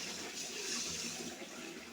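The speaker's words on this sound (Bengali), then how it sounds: "কষানো হয়ে গেছে, এখন জল দিয়ে দেব।" Water pours steadily into a pan of koi fish curry with fried potatoes and papaya cooked down in spices, a brief, continuous splashing stream heard up close.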